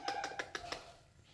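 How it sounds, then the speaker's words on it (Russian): A rescued crow held at a veterinary clinic in Kyiv gives about five quick, close, fairly loud calls in a short burst, followed by quiet. "вот такая вот чудесная ворона"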